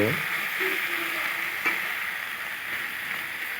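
Onions fry in a pan until badly burnt, making a steady close sizzle with a brief scrape of stirring near the start and no voices.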